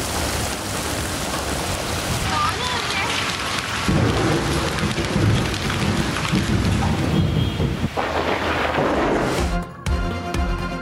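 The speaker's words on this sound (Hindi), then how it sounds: "इस्लामाबाद में गरज चमक के साथ तेज बारिश और यालाबारी" Heavy rain with thunder in Islamabad, a dense, loud, steady roar of downpour with deep rumbling underneath, continuous throughout without voices.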